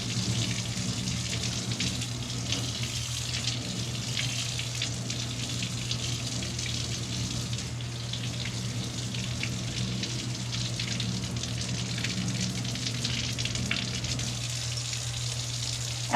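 Tap water runs steadily from a faucet into a surgical scrub sink, a continuous close splashing with a low hum beneath it and no talking.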